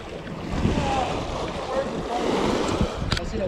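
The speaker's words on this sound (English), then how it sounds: "Like the ocean out here." Ocean waves and gusting wind out on open water by a jetty, a loud continuous rushing wash with buffeting wind noise against the microphone and a short rattle near the end.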